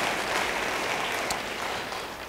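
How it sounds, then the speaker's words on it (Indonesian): A church congregation breaks into lively applause, a dense, even roar of many hands clapping close by that tapers off slightly toward the end, with no voices standing out. "Yang mau beri tepuk tangan yang meriah bagi dia"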